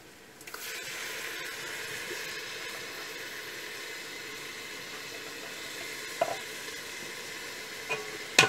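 Tomato being stirred into biryani masala with turmeric sizzles steadily in hot oil, a soft continuous frying hiss with a few sharp clinks of the spoon against the pan near the end.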